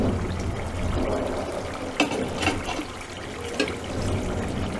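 Steady rain falls during a thunderstorm, a continuous wash of pattering and splashing water heard close by, with a few sharper drips and splashes standing out and no talk over it.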